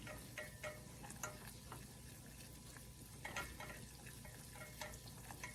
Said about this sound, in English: inside the pan, the butter's starting to bubble up a little bit